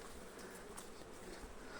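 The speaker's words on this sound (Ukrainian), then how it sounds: "бджілка в принципі літає" Bees flying around beehives at an apiary: a steady, faint, continuous buzzing hum with no break, close and unbroken by talk.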